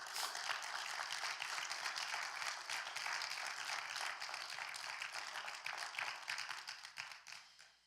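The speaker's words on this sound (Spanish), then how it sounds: "Dale un aplauso al Señor." A church congregation applauds steadily for several seconds, a dense wash of many hands clapping in a large room that fades away at the end.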